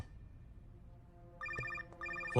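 A telephone rings in short electronic trills against a quiet background, two bursts with a brief pause between them.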